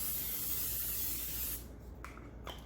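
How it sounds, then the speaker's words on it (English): A continuous hissing aerosol spray of coconut oil cooking spray into a pan for over a second, then it stops, followed by a couple of faint light knocks. "So now I'm going to spray some Pam coconut oil spray"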